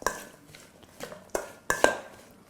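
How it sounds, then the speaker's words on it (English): A Thai steak salad with cilantro and green onions being tossed and mixed in a bowl: a few soft, scattered clinks and taps of utensil against dish, irregular and fairly quiet, with no talking. "And then just gonna mix it up briefly."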